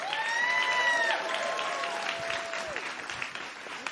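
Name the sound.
audience applause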